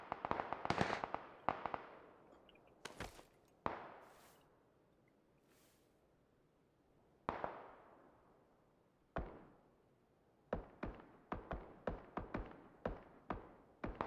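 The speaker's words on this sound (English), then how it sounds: "We're shooting someone else now." Gunshots in the video game PUBG crack out as sharp, isolated reports, a few early then a quick run of close shots near the end, with quiet gaps between and no talk.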